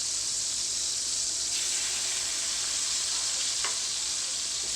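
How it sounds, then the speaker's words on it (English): Fish frying skin-down in hot oil, a continuous bright sizzle and hiss holding steady throughout, with faint clinks in the background and no talk. "Make sure skin is in the oil. Skin down."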